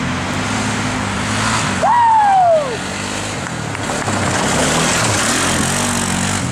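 ATV engines running laps on a half-mile, 3-acre dirt test track in Kennesaw, Georgia, at a powersports dealer, ridden in snow; a steady, loud motor drone fills the whole stretch, with one engine briefly revving higher near the middle.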